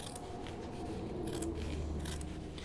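Small scissors snip through a fabric seam allowance with a few quiet, crisp cuts spaced about a second apart over faint steady background noise while sewing pants.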